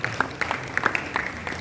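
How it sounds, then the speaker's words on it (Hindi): A small gathering at a seminar hall claps in sparse, separate bursts, a handful of distinct hand claps spread unevenly rather than a full ovation. "जोरदार तालियां बजा करेंगे उत्साह से।"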